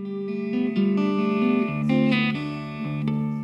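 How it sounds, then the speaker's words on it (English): A Line 6 Variax electric guitar modeling an acoustic sound, picking a few sustained notes and chords that ring out clearly with no other sounds. "If you put it on an acoustic sort of sound like this"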